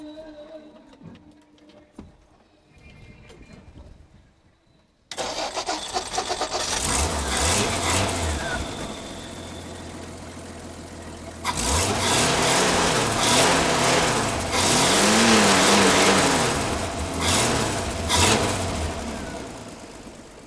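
A red Ford Fairlane's engine cranks and catches, then idles loudly and revs up in repeated swells, close by, after a quieter stretch at the start.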